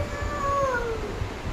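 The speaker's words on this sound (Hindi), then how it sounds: "किसकी कैट है? बोल रही म्याऊं म्याऊं करके।" A cat gives a single drawn-out meow that slides downward in pitch, fairly faint against a quiet room with soft background noise.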